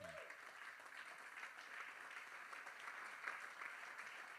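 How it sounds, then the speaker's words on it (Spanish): A church congregation applauding together, a steady, dense wash of clapping that fills the space evenly and stays at a constant level throughout, with no voices standing out. "denle un aplauso fuerte a Dios"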